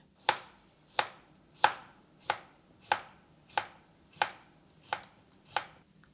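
A knife cuts peeled sweet potato into thin slices on a board, with nine crisp, evenly spaced chops about two-thirds of a second apart, close and clear with nothing else heard.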